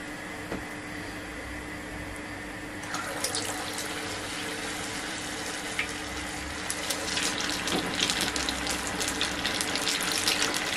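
Dough fries in a pan of hot oil, a continuous hiss and crackle that swells partway through, with denser popping and sizzling spatters toward the end; no voices.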